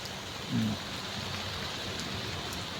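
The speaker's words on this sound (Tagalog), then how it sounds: "Nagulan, tamang-tama sa tanim natin." Steady rain hissing evenly throughout, with a brief low murmur near the start.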